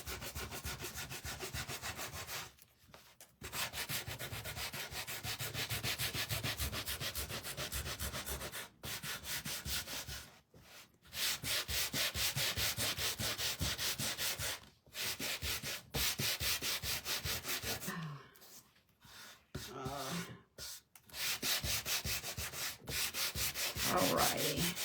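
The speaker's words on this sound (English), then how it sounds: "All right, and we'll give it a quick sand." Sanding a painted wooden snowman hat piece from a winter craft kit: continuous loud rubbing and scraping strokes run steadily for about 25 seconds, broken by a few short pauses, with no talking.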